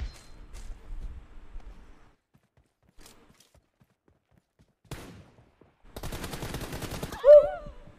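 Gunfire from a 1v1 team deathmatch video game, heard as a dense rapid burst of shots near the end after a short single report and quiet stretches, with low game noise early on.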